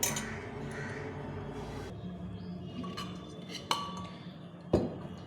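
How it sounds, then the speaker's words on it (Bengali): Boiled mung dal being mashed in a metal pot, with soft scraping and mushing strokes punctuated by a couple of sharp spoon-on-pot clinks near the end. "এখন ডালটাকে একটু ম্যাশ করে নেব"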